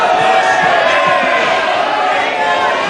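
Dense, continuous crowd din fills an Indian parliamentary chamber during a no-confidence motion debate, a loud steady roar of many members with no single voice standing out.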